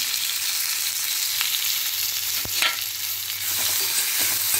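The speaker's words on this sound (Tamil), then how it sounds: "இது கொஞ்சம் நல்லா வதங்கட்டும்." Tomatoes sizzle and crackle in a hot pan, with a soft scrape of stirring partway through; a steady frying hiss throughout.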